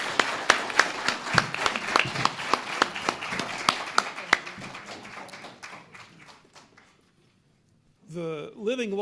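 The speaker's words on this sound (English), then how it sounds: "let us give a round of applause of thanks to our fine panel." A crowd at a legal panel event claps steadily for several seconds, the applause thinning and fading out, followed by a brief burst of warbling electronic tones.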